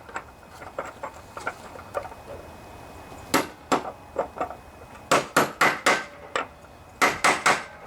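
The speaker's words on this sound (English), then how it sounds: "Tap it in if it needs it. You don't want to hit on it too hard." A hammer taps a spacer onto a deck bearing of a John Deere LA145 riding lawnmower. It gives sharp metallic knocks, first light and spaced, then louder in quick clusters of three or four, close up.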